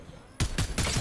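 Rapid automatic bursts from a placed turret in the video game Fortnite, three loud broadband volleys in quick succession after a quiet start.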